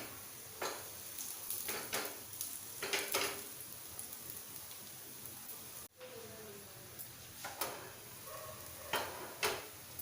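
KFC-style chicken wings frying in oil over a high flame, giving a steady hiss with bursts of crackling and popping that rise and fall throughout.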